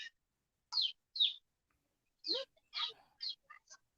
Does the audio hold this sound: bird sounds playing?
yes